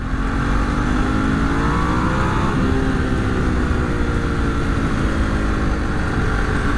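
A Ducati 749 sport motorcycle engine, mechanically stock, revs loudly and accelerates, its pitch climbing steadily, close up and continuous with steady road noise beneath.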